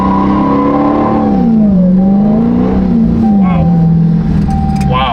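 Engine of a salvage 2023 Dodge Challenger Hellcat Jailbreak revving and pulling hard with rear-wheel torque, a loud continuous roar rising and falling across the whole stretch, with people exclaiming over it.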